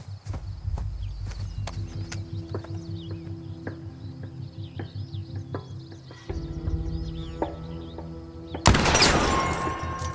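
Repeated sharp gunshot cracks from the video game The Quarry over a steady engine-like hum, ending in a loud burst of noisy blast.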